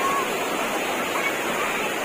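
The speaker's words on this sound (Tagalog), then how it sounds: "Okay. Yan ang falls." A mountain waterfall on rocky terrain roars steadily as a dense, unbroken wash of falling water, loud and close, with no pauses or changes through the moment.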